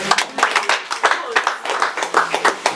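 Audience clapping at a baptism celebration in Rwanda, a dense run of hand claps with uneven bursts continuing steadily through the whole moment.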